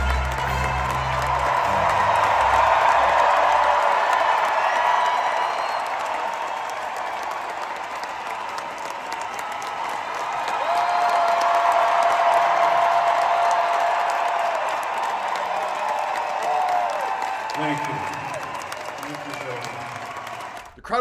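A huge crowd of some 50,000 people roars and applauds at a stage appearance during a tribute event, a loud sustained wash of cheering and clapping that swells, eases slightly, then swells again, with music and voices faintly beneath.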